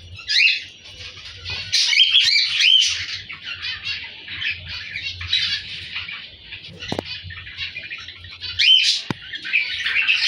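Pet cockatiels, zebra finches and budgerigars fill an indoor aviary setup with loud, continuous chirping and chattering. Occasional sharper calls and brief wing flutters stand out over a low background hum.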